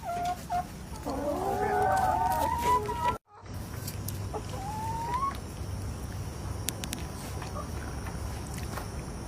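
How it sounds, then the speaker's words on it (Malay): Chickens cluck and call in a farmyard as they come out of their coop, a few drawn-out squawks standing out over steady background noise and scattered clucks. "Ayam keluar."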